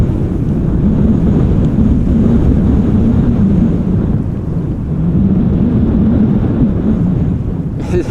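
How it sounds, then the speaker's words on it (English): Strong gusting wind buffets the microphone at Amsterdam Schiphol Airport as a steady, loud low roar that swells and eases over about eight seconds, with no voices. "It is still a bit windy over here, as you guys can see and hear."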